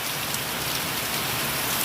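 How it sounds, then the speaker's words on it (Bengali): Heavy rain pours down steadily, a dense, loud hiss of drops hitting surfaces with no pauses. "প্রচণ্ড বৃষ্টি হচ্ছে"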